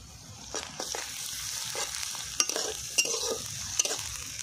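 Garlic sizzles and crackles in hot oil over a coal fire while chicken curry is prepared, with steady close frying hiss and a few sharp stirring scrapes, no voices.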